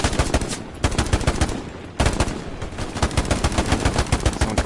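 Rapid bursts of automatic rifle and machine-gun fire in the World War II shooter Hell Let Loose, loud and close, in repeated volleys with a short lull midway, no voices.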